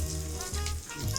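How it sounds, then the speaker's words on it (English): Crickets fry in a pan with a close, steady sizzle and a faint low hum underneath, crackling continuously throughout. "It's still sizzling."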